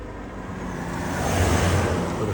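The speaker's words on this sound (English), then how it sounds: "With a car going by." A car on a desert road in Death Valley National Park swells louder as it draws near, a broad whooshing rush that builds over a couple of seconds.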